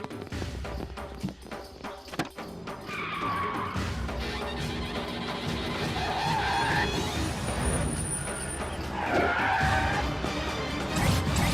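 A car engine revs and pulls away with tire squeal and rising motor noise over several seconds, fairly loud and continuous, with no talking.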